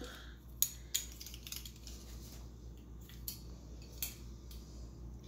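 Metal measuring spoons rummaged and clinked in a kitchen drawer while hunting for a half teaspoon, a few sharp light jingles and taps spaced over quiet background hum.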